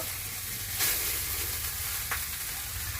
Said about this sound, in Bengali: এই যে মাছটা আর একটু গরম করে নিলাম